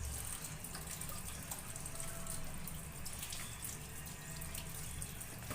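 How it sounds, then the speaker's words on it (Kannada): Water running from a tap into a mixer jar, a steady close splashing and trickling stream that lasts throughout with no talking. "ಮಿಕ್ಸಿಗೆ ಒಂಚೂರು ನೀರು ಹಾಕ್ಕೊಂಡು ಅದನ್ನು ಇದು ಸೇರಿಸ್ತೀನಿ"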